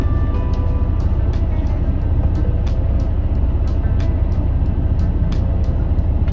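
A diesel car drives during a driving lesson, its engine rumbling steadily and loudly inside the cabin, with a faint rhythmic ticking over a constant low drone.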